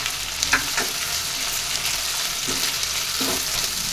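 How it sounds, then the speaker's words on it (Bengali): Chopped tomato, green chili and a few peas frying in a pan make a steady, dense sizzle close by, with a few soft spatula scrapes and stirs breaking through. "এইগুলোকেও আমি ভালো করে ভেজে দেবো।"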